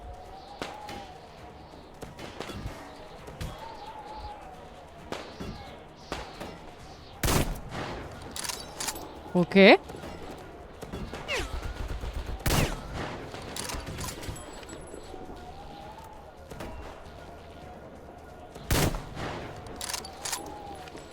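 Scattered sharp gunshots from a weapon in the video game Metro Exodus, set in a desert, sounding as isolated loud cracks spaced through otherwise quiet game ambience with low background hum.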